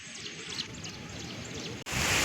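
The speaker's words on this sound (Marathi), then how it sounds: "पहा किती मस्त पाणी निघत आहे जमिनीतून एकदम स्वच्छ" Continuous gurgling rush of water welling up and flowing out of the ground, close by, growing a little louder toward the end.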